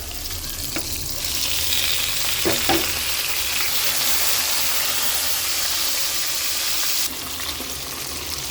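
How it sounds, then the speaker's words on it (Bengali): Pieces of rohu fish drop into a pan of reddish-browned onions and fry with a loud, steady sizzle. A couple of clinks are heard early on, then the hiss eases slightly near the end. "এখন এই পেঁয়াজের মধ্যে আমি রুই মাছের টুকরাগুলো দিয়ে দিব, পেঁয়াজের সাথে ভেজে নিব।"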